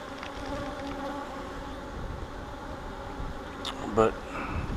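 Honeybees fanning their wings inside a hive during an inspection, a dense continuous buzzing drone close by, with someone talking over it and a brief louder rustle near the end.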